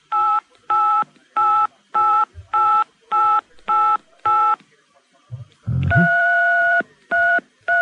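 Telephone keypad tones played as a tune by a caller on a radio phone-in, eight evenly spaced beeps followed by a low thump and several longer held tones, clear and loud.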